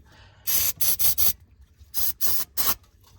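Penetrating lubricant hisses from an aerosol can onto the parts of an abandoned Volvo 240, close and crisp in seven short bursts: four quick ones in a row, a pause, then three more.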